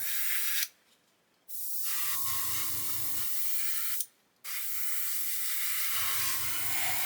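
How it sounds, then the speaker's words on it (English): Short bursts of an airbrush laying a light coat of LP9 gloss clear onto a 1/32 scale Fokker E.IV model, a close, soft hiss in two passes separated by brief quiet gaps with faint hum. "If I just go over lightly, just put a light coat down of the LP9, which is just a gloss clear."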